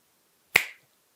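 A single sharp finger snap, close and crisp, with a quick decay into silence and no talking around it.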